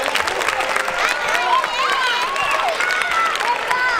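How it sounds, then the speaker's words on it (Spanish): An audience claps and cheers at a Movistar Estudiantes youth basketball team presentation, with the applause running throughout as a presenter's voice carries over it. "Un aplauso para él."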